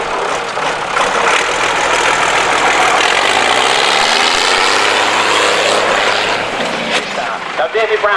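A powerful David Brown direct-injection diesel tractor runs loudly and steadily at a vintage vehicle gathering, its engine drone continuous and close throughout.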